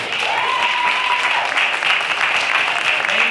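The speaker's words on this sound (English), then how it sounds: "this round of applause is for you" Steady, dense applause from an audience honoring scientists at a live Q&A show, filling the whole stretch at a consistent loud level with no pauses.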